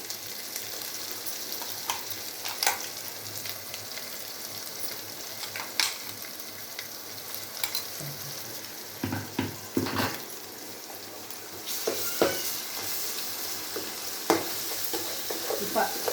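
Hot oil sizzles steadily as ground chilli powder hits the pan for a broad bean and tomato curry, with occasional stirring scrapes and clinks over the continuous frying hiss; no talking.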